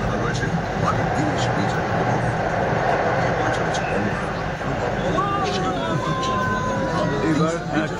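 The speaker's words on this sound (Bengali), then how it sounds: "ট্রেন প্রবেশ করলো গঙ্গার মধ্যে দিয়ে" A Kolkata metro train runs under the Hooghly river, a steady loud rumble of wheels and carriage noise filling the whole stretch, with crowd chatter and passenger voices mixed in throughout.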